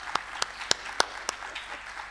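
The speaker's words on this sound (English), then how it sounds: "Just give a big round of applause for Alyssa and Jen." At a classical music event, a few sharp, distinct handclaps ring out after a performance: about five separate claps spaced irregularly over two seconds, close and fairly crisp against a quiet room.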